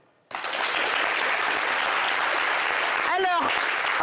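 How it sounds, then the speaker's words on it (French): An audience applauds the artist Vital, with dense, steady clapping starting suddenly and filling the room, and a voice briefly calling out near the end. "vous allez l'applaudir."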